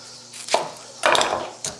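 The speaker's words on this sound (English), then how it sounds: "I'm gonna slice up an onion" A knife slices through an onion on a cutting board, three quick close chopping strokes with a clack of blade against board, no talking.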